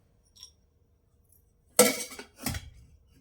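Two metal clinks and clatters as a tadka pan is handled while oil goes in: a faint tap first, then a sharp near clank of cookware and a second shorter rattle, with quiet pauses between.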